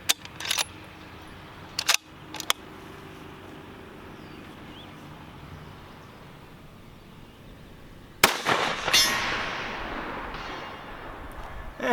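A Howa 1500 rifle fired outdoors at long range toward a distant steel target with woods behind it: a few small clicks and handling noises, then one loud close shot whose blast decays into a long rolling echo.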